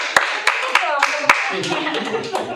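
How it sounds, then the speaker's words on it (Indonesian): Several sharp claps ring out in a loose, irregular rhythm, followed by a scatter of lighter claps under murmuring voices. "Boleh tepuk tangan lagi dong."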